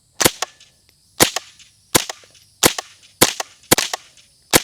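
Six sharp gunshots fired at a steady pace roughly a second apart, each a loud close crack followed by a short echoing tail, with no talking.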